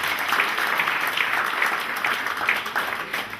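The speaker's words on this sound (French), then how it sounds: "Applaudissez encore pour elle." An audience claps steadily at a Labour Day celebration, applauding a woman being honoured; dense, continuous applause fills the room at close range with no voices over it.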